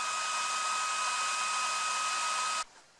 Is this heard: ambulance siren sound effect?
no